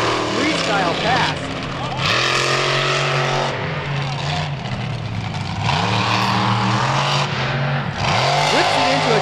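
A monster truck whipping into a donut during a freestyle run at a beach motorsport show in Wildwood, NJ: a loud engine roaring and repeatedly revving up and down in surging waves, with a faint commentator voice underneath.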